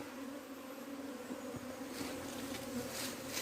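Wild cavity-nesting bees fly into a bait hive box, giving a steady, close buzzing hum from many insects that continues throughout with no voices.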